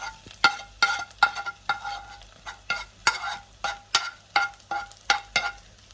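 Softened onions and garlic tossed into a hot pan, a light sizzle broken by regular, sharp metallic scrapes and knocks of a utensil stirring, about two per second, close and clear with no talking.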